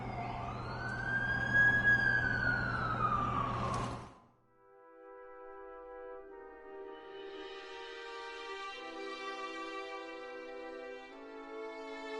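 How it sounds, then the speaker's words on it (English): An ambulance siren wails in The Amazing Spider-Man 2 video game on PS4, a loud sweeping tone that cuts off abruptly after about four seconds, followed by sustained game music. "That's the ambulance I called."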